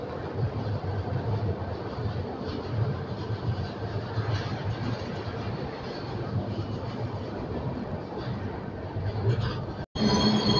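A DEMU passenger train rolls past on the adjacent track near Solapur, a steady loud rumble and clatter of wheels that holds throughout, heard from inside a moving express coach.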